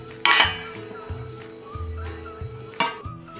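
A lid clatters onto a metal pot of cooked varai rice, with a sharp clink followed by smaller rattles and scrapes of cookware, then a second clink near the end, close and fairly loud.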